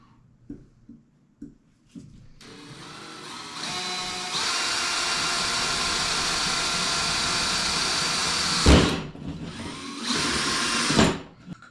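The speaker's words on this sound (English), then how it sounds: "we got those all drilled, about 1 inch apart" A power drill bores holes into a 3D-printed jaw jacker, the motor whining loud and steady for several seconds, briefly stopping, then spinning up again before cutting off.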